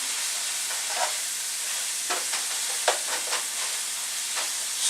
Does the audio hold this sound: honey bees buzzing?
no